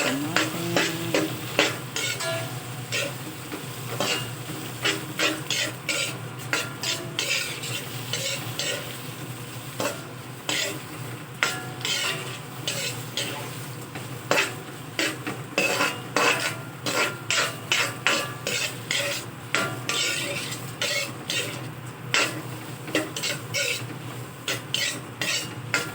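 Shrimp for chop suey stirred in a hot pan, quick repeated scraping strokes of the utensil against the metal over a constant sizzle.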